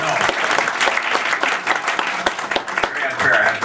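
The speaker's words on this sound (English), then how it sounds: "Let's have a round of applause." An audience at a talk on public transit breaks into dense, steady applause, many hands clapping together and staying loud the whole time, with voices mixed into the crowd.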